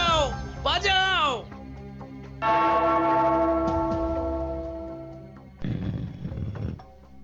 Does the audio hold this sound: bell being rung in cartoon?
yes